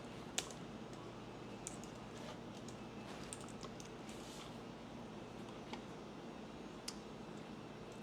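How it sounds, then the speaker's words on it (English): Computer keyboard typing with a business name being entered, as soft scattered key clicks spread over a steady low background hum, fairly faint and continuous throughout with no talking. "I'm going to type my business name in"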